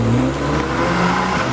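Luxury cars, among them a Mini, rolling past at a flag-off event, a loud close engine drone with a low steady hum and a slight rev, no voices.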